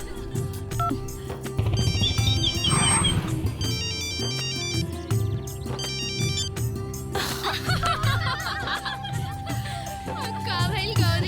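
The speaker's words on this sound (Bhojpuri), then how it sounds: "दरोगा जी के फोन।" A phone ringtone in a Bhojpuri comedy film scene plays a bright electronic melody in repeated bursts, loud and close, over a steady low musical backing.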